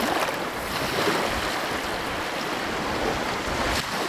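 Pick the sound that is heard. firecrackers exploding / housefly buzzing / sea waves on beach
sea waves on beach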